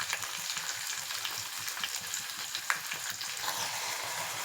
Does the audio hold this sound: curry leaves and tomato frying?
yes